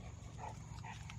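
Cane Corso puppies play-fighting, with faint growly yips and whimpers over a steady low rumble of background noise, quiet and brief.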